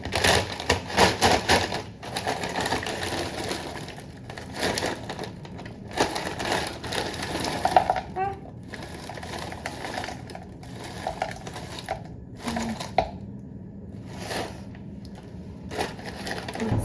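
A plastic bag of frozen red berries being wrestled open in a kitchen, with crinkling, rustling and crunchy crackling in irregular bursts, fairly close and moderately quiet, with brief pauses between efforts.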